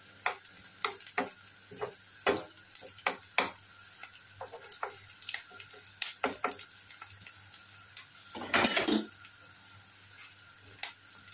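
Garlic and onion sauté in a pan for calamari, with a faint continuous sizzle beneath repeated scrapes and taps of a stirring utensil and one louder clatter near the end.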